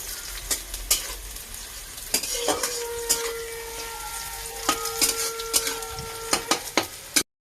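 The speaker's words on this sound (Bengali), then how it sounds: "পেঁয়াজটা ভালো করে একটু ভাজবো।" Onion frying in a pan over a low background sizzle, with repeated sharp scrapes and clinks of a spatula against metal, plus a few brief high whines, close and clear.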